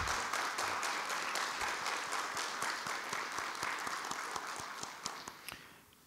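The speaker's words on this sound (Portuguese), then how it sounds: "solicitamos aos presentes uma salva de palmas para marcar este momento." Audience at a campaign launch event applauds steadily with dense clapping for several seconds, tapering off toward the end.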